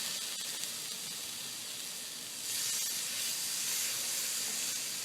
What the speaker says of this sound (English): I put a little bit of cooking spray on the griddle.